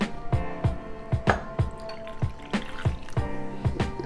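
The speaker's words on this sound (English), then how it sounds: "Now let's add our club soda." Club soda poured into a bowl of fish batter, giving a rapid series of soft wet drips and splashes in a steady rhythm, close and moderately loud with no talk.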